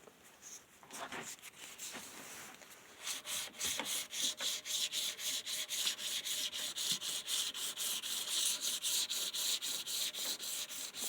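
Fine 1000-grit sandpaper rubbing back and forth on a curved tri tailtuner, a steady rhythmic scratching of brisk strokes that starts softer and grows louder and quicker, close up with no talking.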